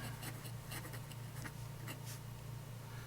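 A scratchy No. 5 fountain pen nib on its first inking drags across paper in short, rough strokes, faint and close with a steady low hum underneath.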